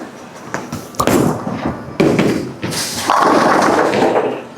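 A bowling ball is thrown down a lane, with a loud thud as it lands followed by a rising rolling rumble that continues steadily.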